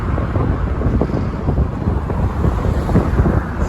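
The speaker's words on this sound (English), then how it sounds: "Sorry if you hear the wind" Strong outdoor wind buffeting the microphone on a street near a streetcar line, a loud continuous low rumble with gusty fluctuations throughout.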